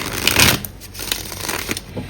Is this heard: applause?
no